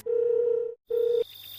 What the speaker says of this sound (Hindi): फिर से दोस्त को फोन किया